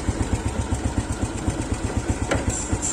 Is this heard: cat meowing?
no